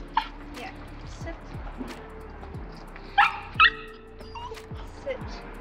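A Mini Schnauzer puppy lets out two sharp, close barks in quick succession over a low background hum, with a fainter yip shortly after.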